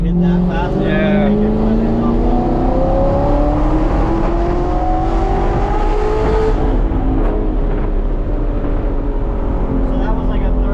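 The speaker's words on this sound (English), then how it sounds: "So that was like a third gear pull from like a super low RPM." A straight-piped, gated-manual 600 hp Audi R8 pulls hard in third gear from very low revs, its loud engine note climbing steadily in pitch for about seven seconds before easing off, with people talking over it inside the car.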